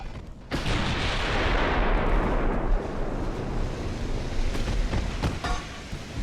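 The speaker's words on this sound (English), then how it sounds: "Wham! Ammo detonation." A ship's ammunition detonates in the naval strategy game Ultimate Admiral: Dreadnoughts, a sudden loud explosion that swells into a long rumbling roar and slowly decays, with a few sharper blasts later.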